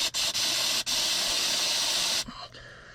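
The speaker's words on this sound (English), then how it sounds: "Spray it till it runs clear," Spray cleaner blasting through the fuel system of a 1973 Peterbilt 352 cabover with a 12V71 Detroit Diesel, idle since 1986, giving a loud, steady close hiss with a few split-second breaks that cuts off to a fainter sputter.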